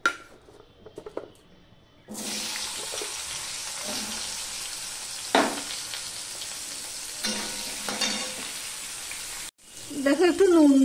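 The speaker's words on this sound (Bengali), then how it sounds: "মিষ্টি কুমড়োটাও ভেজে নেব।" Pumpkin frying in hot oil in a pan, with a steady, close sizzle that holds for most of the clip, a few scrapes and stirs, and a pause near the end before the crackling resumes.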